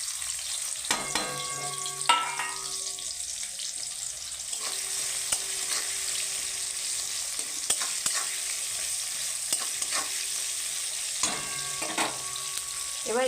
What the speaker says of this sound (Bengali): এবার আমি দেব কুচানো পেঁয়াজ তেলের উপরে।